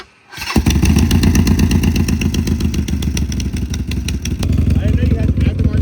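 A 2026 Husqvarna 701 motorcycle fires up after a short quiet moment, then runs steadily with a loud, throbbing single-cylinder rumble and mechanical clatter up close, while people talk over it.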